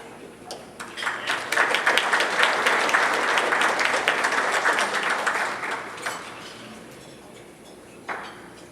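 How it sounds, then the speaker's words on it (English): Guests at a luncheon clap for the sponsors, a round of applause that swells quickly, holds for several seconds, then fades away into scattered last claps. "let's give all those sponsors another round of applause."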